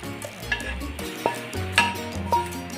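Spatula scrapes and clanks in a pan while stirring a sautéed tofu sisig mixture with raw onion, calamansi and sugar, several distinct scraping strokes over a soft sizzle.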